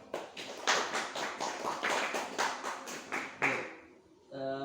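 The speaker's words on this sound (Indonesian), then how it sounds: "Beri tepuk tangan." A small classroom audience claps in rhythm, roughly a dozen distinct close-up claps in an even beat. The clapping fades out, and a voice starts near the end.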